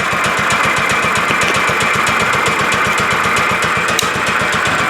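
John Deere 212 lawn tractor engine idling with the idle set fully down after a carburetor cleaning, a loud steady close thumping putter with an even rhythm.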